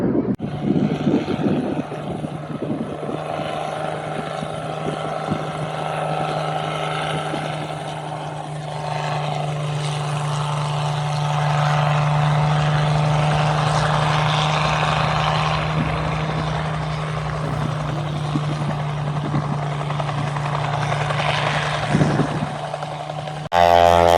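A Boeing Stearman biplane at an airshow drones overhead with a deep, steady radial-engine rumble, loud and sustained with slight swells as it passes, mixed with wind noise.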